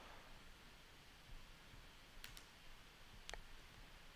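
Computer mouse clicks while drawing lines in a graphics program, a few sparse, faint clicks over quiet background hiss.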